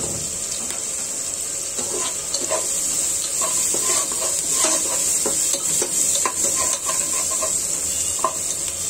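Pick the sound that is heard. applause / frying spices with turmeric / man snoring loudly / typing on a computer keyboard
frying spices with turmeric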